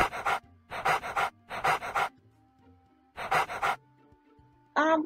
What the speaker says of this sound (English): Why does dog breathe so hard?